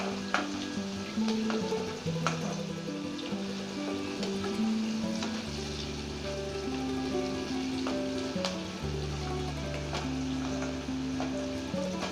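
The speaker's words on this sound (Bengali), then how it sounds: "এগুলো একটু হালকা ভাজা ভাজা হবে।" Vegetables for egg chilli, including capsicum, fry lightly in a pan with a steady, close sizzle and occasional stirring scrapes, uninterrupted by talk.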